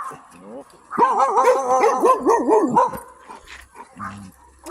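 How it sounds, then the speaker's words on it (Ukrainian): Several dogs bark and yip in a rapid, excited run of howling, whiny barks at close range, trailing off into a few low woofs near the end. "Баскервілі. Песики Баскервілі"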